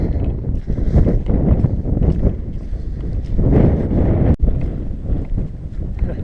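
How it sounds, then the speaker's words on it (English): Strong wind on Moel Famau buffets the microphone with a constant deep roar, gusting louder and softer throughout, with no one speaking. "Very windy."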